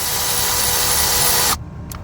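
Power ratchet tool spinning a bolt out on a Jeep Patriot, a loud continuous mechanical buzz up close that stops abruptly after about a second and a half, followed by a faint click.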